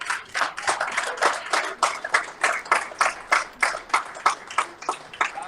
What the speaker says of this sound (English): And going to get a big round of applause for Trent for taking on the challenge.